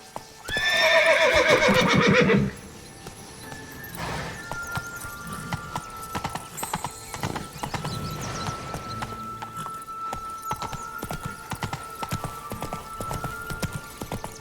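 A horse in The Witcher 3 video game whinnies loudly, then hooves clip-clop at a steady pace alongside faint ambient game sounds, with no talking.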